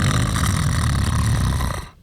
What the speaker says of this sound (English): did you record your snoring? I recorded myself